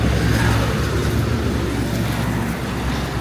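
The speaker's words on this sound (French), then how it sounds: "Vous voyez, il y a tous les véhicules" Street traffic in central Bogotá near the markets, a dense steady rumble of passing vehicles and engine drone, fairly loud and continuous with no distinct events.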